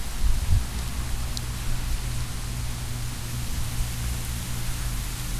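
Steady rain falls across an outdoor tropical garden in Mirabel, Québec, a dense, even hiss with a low rumble beneath and a few brief bumps near the start, no voices.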